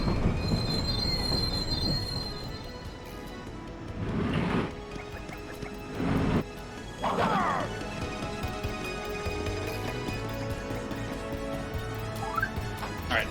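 A train ride in Paper Mario: The Thousand-Year Door makes a continuous rumble of rolling wheels with high metallic squeals and a few louder bursts, sustained and fairly loud throughout.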